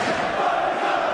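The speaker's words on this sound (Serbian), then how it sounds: "Čuju se navijači Partizana koji su u velikom broju došli u Milano" A large travelling crowd of Partizan basketball fans roars inside an arena in Milan during a Euroleague game against Armani, a dense, loud, continuous wall of chanting and cheering.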